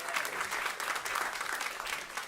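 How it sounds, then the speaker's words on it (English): Audience applause at an agriculture panel event on climate resilience, a steady dense wash of many hands clapping for a farm manager, moderately loud and sustained throughout. "Give him a round of applause."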